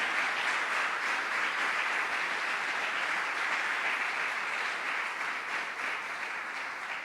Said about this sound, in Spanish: ¿Cuántos le dan un fuerte aplauso a Dios por eso?